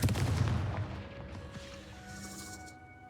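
In the video game Hogwarts Legacy, the Confringo spell fires as a loud, close blast with a booming impact that fades into a lingering rumble.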